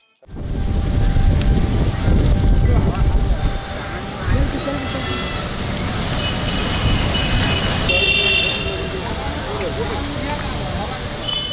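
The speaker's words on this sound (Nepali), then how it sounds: "हावाहुरी चल्यो, सँगै सडक नै बढार्ने गरी पानी पर्यो।" A windstorm with heavy rain lashes a road, a loud broadband roar of gusts and downpour buffeting the microphone, strongest early on and then settling into a continuous wash.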